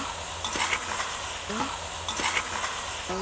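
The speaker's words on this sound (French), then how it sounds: "De la tomate fraîche. Je remue un peu." Fresh tomato stirred with onions in a cooking pan gives a continuous low sizzle, broken by a few distinct scraping strokes of the spoon against the pan.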